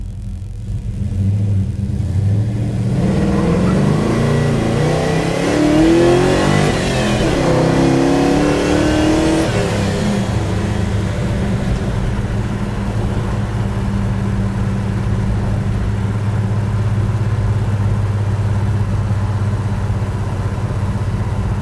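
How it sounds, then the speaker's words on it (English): A 1966 Pontiac Beaumont being driven, its engine rumbling loudly and close, rising through a rev in the middle then settling into a steady cruising drone with road noise. "Taking a drive in my father's car, 1966 Pontiac Beaumont."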